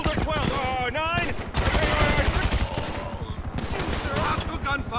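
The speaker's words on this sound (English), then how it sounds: "Hostile gunfire!" Bursts of automatic gunfire in Grand Theft Auto V, rapid repeated shots in several volleys, mixed with shouting voices and game dialogue.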